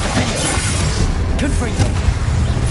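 Spell combat in Hogwarts Legacy, an icy Glacius freezing cast landing amid a dense, loud layer of game effects with low booms and whooshes, steady throughout, with a voice speaking over it.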